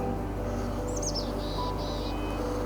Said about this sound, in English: There's a chickadee singing away in here.